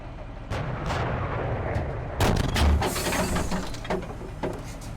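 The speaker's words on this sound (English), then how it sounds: "Love this 40mm gun." A 40mm gun in the Steel Beasts Pro tank simulator fires in heavy, booming shots. A few come in a quick cluster near the start and a louder blast follows midway, all close and alone with no talk.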